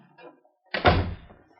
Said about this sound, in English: Now, just close the door, will you, please?